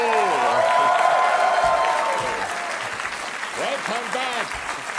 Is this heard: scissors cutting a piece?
no